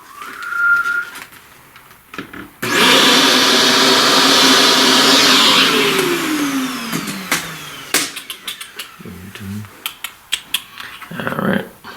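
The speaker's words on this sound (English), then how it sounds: "Well, let's vacuum that." A vacuum cleaner switches on abruptly over a charcoal drawing, whining loud and steady for about five seconds, then its pitch sinks as it winds down, followed by scattered taps and clicks.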